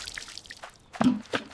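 Water drips and splashes from a bucket in a cartoon construction scene, a few quick, fairly close drops and a brighter splash near the end, heard alone without talk.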